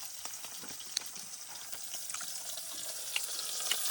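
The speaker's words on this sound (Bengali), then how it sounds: "মাছ ভাজাও বসিয়ে দিয়েছে" Fish fried in a pan at night, a steady hissing sizzle with scattered crackles and pops throughout, close and fairly quiet, no talking.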